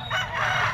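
A single short crow from a rooster, close and fairly clear, cut off after less than a second.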